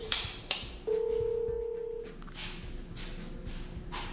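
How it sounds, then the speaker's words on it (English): A telephone rings once in a steady electronic tone lasting about a second, following a couple of sharp knocks in a workshop where an aircraft kit is being built, with faint background noise afterward. "I got a telephone call"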